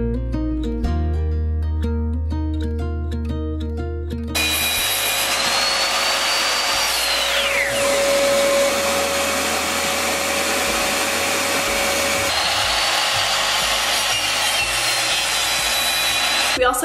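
A power drill bores pocket holes in wood for a farmhouse dining table, a loud continuous whine with the pitch sagging under load, starting abruptly after a few seconds of music and running steadily with music underneath.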